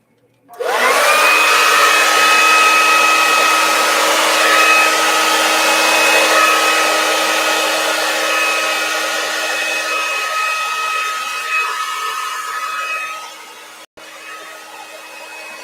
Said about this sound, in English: I'm using the black hair dryer